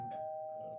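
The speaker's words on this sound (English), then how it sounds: "somebody's ringing the doorbell." A doorbell rings indoors with a single steady electronic tone sustained briefly, faint and somewhat distant, without any voices.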